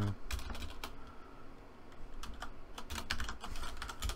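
Rapid, close clicking of keys on a computer keyboard, in irregular bursts of keystrokes that run through the clip with no speech.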